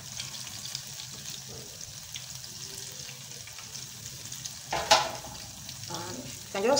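Small banana mosa balls bubble and crackle in hot frying oil over medium heat, a soft continuous sizzle with a couple of louder bursts and scraping stirs near the end.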